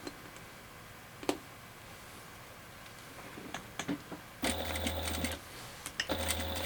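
A sewing machine stitches a seam in two short bursts of steady whirring near the end, preceded by quiet handling clicks and ticks in an otherwise calm room.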